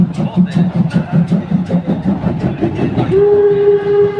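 A steam locomotive chugs in a steady rhythmic beat at a steam locomotive parade in Wolsztyn, Poland, exhaust puffs loud and close, then a sustained whistle sounds.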